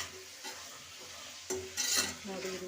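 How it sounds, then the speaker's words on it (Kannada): Potatoes and tomatoes being stirred as they fry in a pan, a soft steady sizzle with scraping strokes of a spoon that grow louder toward the end, close by. "ಇದು ಕೂಡ ಚೆನ್ನಾಗಿ ಫ್ರೈ ಮಾಡ್ಕೊತಾ ಇದ್ದೀನಿ"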